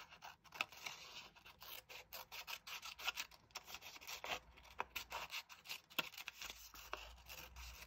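Scissors cut along drawn lines in paper for a pop-up spiral art project, a long run of close, rhythmic snips and rustling paper.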